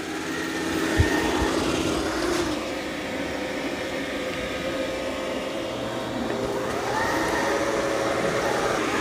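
A Dreame robot vacuum-mop cleans a floor of dried muddy paw prints, producing a steady, close whirring drone with a faint shift in pitch midway and no talking.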